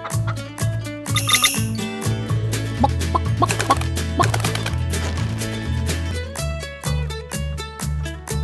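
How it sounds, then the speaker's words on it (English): Chickens clucking in a pen in a Paw Patrol video game, repeated short synthetic clucks over a bouncy, rhythmic musical backing, with no talking. "Look back around the pen. You may find chickens there."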